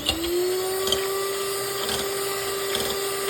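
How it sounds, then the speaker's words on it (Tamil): An electric beater whirs steadily at close range as it beats eggs in a bowl for a walnut and date cake, holding a constant motor pitch with faint rhythmic knocks against the bowl. "நான் பீட்டரில் பீட் பண்ணதுனால 2 நிமிஷம் மட்டும்தான் பீட் பண்ணியிருக்கேன்."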